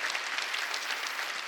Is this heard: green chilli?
no